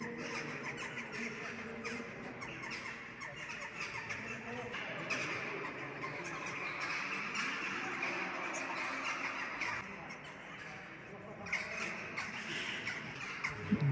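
Birds, including crows, call and caw faintly at a distance in a busy outdoor setting at the Hoca Ahmet Yesevi Mausoleum in Turkistan, scattered brief squawks over steady crowd and ambient noise.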